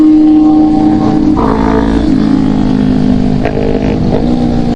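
A Honda CB500F inline-two motorcycle ridden on roads with corners: a loud, close engine hum with steady low harmonics and a few brief throttle changes, sustained throughout with no talking.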